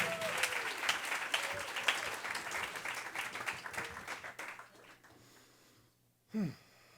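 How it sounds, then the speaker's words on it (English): Audience applause at a Moth storytelling night in New York City, dense clapping filling the room for several seconds before fading out, followed by a brief vocal sound near the end. "keep clapping, keep clapping"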